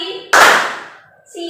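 One sharp, loud clap from a class clap chant in a roleplay session, with a brief ring afterward and children's voices just before and after.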